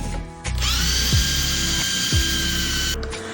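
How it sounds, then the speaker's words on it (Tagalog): A power drill boring a hole into wood for an L bracket while building a bench from an old bed: a loud, steady motor whine running nearly three seconds after a brief start-up, close and without talking. "gagamitan muna natin siya ng drill. Ito, pangbutas ng kahoy natin para hindi mabiyak yung kahoy natin"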